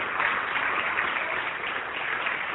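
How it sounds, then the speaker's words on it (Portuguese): A church congregation applauds in a steady, continuous wash of clapping that carries through without a break and with no voices heard. "Vamos aplaudir o Senhor."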